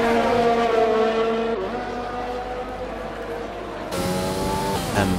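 Race cars in a sim-racing video game at a Japan circuit, loud engines holding steady high-pitched notes that shift as gears change, with a sharper burst of revving and tyre noise near the end as cars battle for position.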